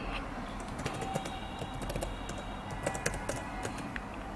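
Fingers type on the Cube i9 tablet's keyboard in quick irregular bursts of light clicks, close to the microphone, with no voices.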